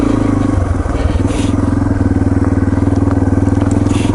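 A Yamaha TT-R230 dirt bike idles in neutral on a trail at Windrock Park, its steady, close, loud low-pitched engine putter running evenly throughout with a slight mechanical clatter.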